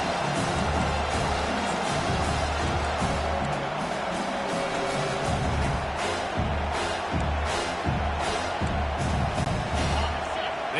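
A stadium crowd roars steadily at a football game as the opposing offense is pinned deep in its own end, a dense continuous wash of cheering under a commentator's voice throughout.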